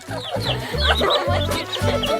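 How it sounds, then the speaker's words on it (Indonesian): Small chick or chicken clucking in short repeated bursts, close and fairly loud, in a kitchen challenge setting. "Lihat ini ayam asli."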